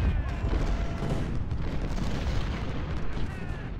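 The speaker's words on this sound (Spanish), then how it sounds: "aquí estoy sufriendo los disparos de la artillería, pero totalmente" Artillery fire in the Ultimate General: Civil War strategy game: a dense, continuous roll of booming cannon blasts and rumbling explosions, loud and sustained across the whole stretch.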